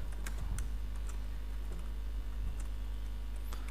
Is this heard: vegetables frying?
no